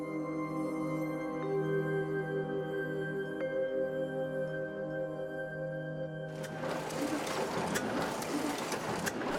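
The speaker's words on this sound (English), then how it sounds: "we examine why this old-fashioned press plays such an important role today in preserving Ge'ez" An old-fashioned printing press prints Ge'ez script, first as a steady mechanical hum with tonal drone, then breaking into a louder, dense clattering rush of machine noise in the final few seconds, with no talking.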